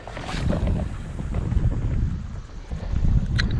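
A strong east wind blows across a Long Island back bay during spring fishing, giving a gusty, rushing noise that swells and fades over a few seconds, with a brief sharper hiss near the end.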